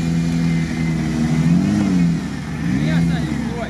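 Suzuki Samurai off-roader climbing a steep quarry hill, its engine revving and rising and falling in pitch through two surges, with people talking nearby over the motor.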